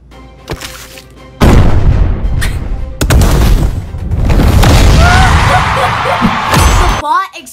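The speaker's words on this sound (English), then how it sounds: "The bot exploded." A robot blowing up in a video game erupts in a loud, sustained explosive boom with rumbling and crackling debris, followed by more blasts and a sudden cut-off; faint sounds precede it.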